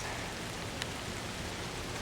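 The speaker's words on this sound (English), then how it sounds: "Rain's coming down quite well, as you can see on my bird bath." Heavy rain pours steadily onto a backyard bird bath during a strong thunderstorm, a dense continuous hiss of falling water, close and even, with no voices.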